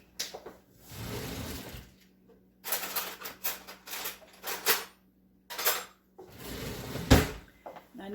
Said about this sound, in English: let me go get a spoon